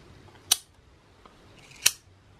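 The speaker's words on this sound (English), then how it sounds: "The bolt action itself is very smooth" The bolt action of a titanium pen clicks twice, two crisp, close metallic snaps about a second apart in an otherwise quiet room.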